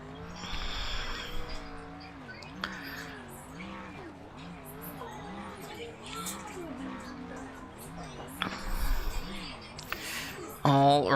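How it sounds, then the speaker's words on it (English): Race car burnouts in an ARCA sim race at Daytona: a droning, revving engine with tire squeal and skidding running throughout, under an announcer's continuous commentary. "as we continue to see Jason do these burnouts right here"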